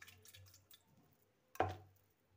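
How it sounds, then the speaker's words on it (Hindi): Washed moong dal is tipped into a cooking pot with a single wet, squishy splash after some quiet handling sounds, then fading out. "ये मूंग की दाल भी मैं इसमें ही डाल दूंगी"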